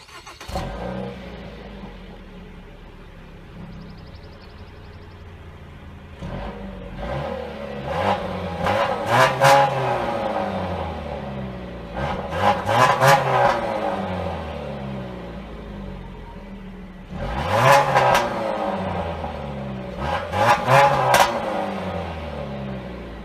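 Stock, unmodified engine of a 2014 Dodge Dart revving in several bursts, rising and falling with a brief pause between pairs of sharp revs over a steady idle, loud and close with no talk.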